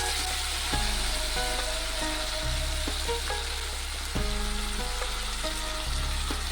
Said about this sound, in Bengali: নুনটিকে দিয়ে আবারও নেড়ে চেড়ে আমি বাঁধাকপিটি দিয়ে দেব।